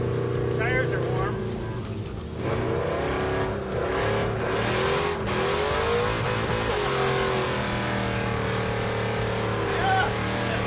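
V8 muscle truck with a four-link rear suspension driven hard around cones on warm tires, engine revving and surging close by for about ten seconds while people talk over it.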